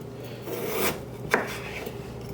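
A kitchen knife cuts through a russet potato being trimmed for French fries, giving a couple of crisp, close slicing strokes against a faint steady background hum.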